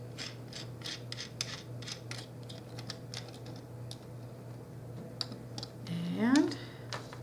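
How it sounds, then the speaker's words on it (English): A nut is threaded by hand onto the stud of an automotive ANL fuse holder, giving a run of small close metallic ticks and clicks ending in a brief scraping ratchet, with a faint steady hum underneath. "And take your nut and screw it on,"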